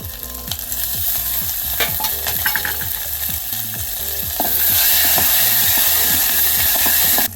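Curry leaves, crushed garlic and green chillies crackle and sizzle steadily in hot oil with mustard seeds for a Maharashtrian buttermilk kadhi tempering, loud and close, with a sharper hiss building toward the end.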